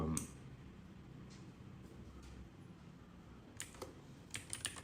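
Typing on a computer keyboard for a graphic design session, mostly faint soft key taps with a few sharper bursts of clicks near the end, set against a quiet room background.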